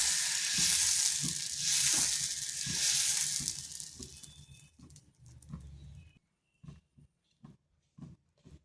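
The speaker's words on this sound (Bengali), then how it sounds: "এরপর এখানে 1 হাতা ব্যাটারটা দিয়ে দিচ্ছি" A ladle of sour yogurt and semolina batter hits a pan of hot oil, sizzling loudly at first and fading over several seconds, with scattered scraping taps from a utensil continuing after it quiets.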